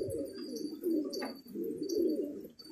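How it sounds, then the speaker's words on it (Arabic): Pigeons coo repeatedly and close by as birds from a flock of pigeons are let out to fly, the soft burbling calls swelling and fading in two main phrases with a few faint chirps over them. "هاي شايفينه، هذا طيرناه لعيون رمزي جديد والله"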